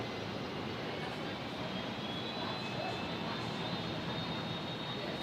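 Jetstar Airbus A320 jet on approach into Brisbane airport, a steady distant roar of jet engines with a faint high whine, constant and broad throughout.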